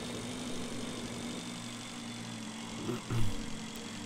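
A motorbike engine in the Breathedge video game runs at a steady idling drone with a constant tonal hum, then gives a brief louder rattle and bump near the end.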